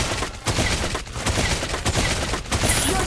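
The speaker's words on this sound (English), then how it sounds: "Introducing Runner, my snipe rifle." Rapid gunfire from a sniper rifle in the Mobile Legends game plays loud and dense, with shots crowding together in fast bursts over busy game effects and brief gaps.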